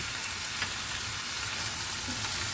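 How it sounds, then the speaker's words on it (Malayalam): Biryani masala being sautéed and stirred in a pan, a steady close sizzle of frying with soft scraping stirs running throughout, no talking. "എന്നിട്ട് നല്ലവണ്ണം വഴറ്റി എടുക്കാം."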